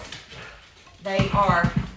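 Excited pet dogs bark in a home kitchen, a quick burst of several close barks in the second half, mixed with a person talking.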